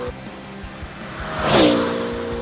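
A Hennessy Venom GT sports car drives past, a low engine rumble that swells into a brief rising whoosh near the middle before settling back to a steady drone.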